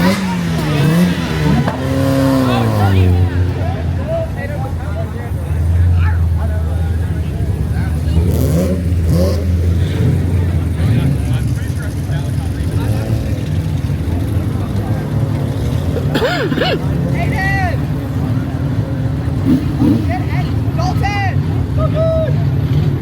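Car engines rev and accelerate at a car meet, loud and close with rising and falling engine tones throughout, while people talk over the noise.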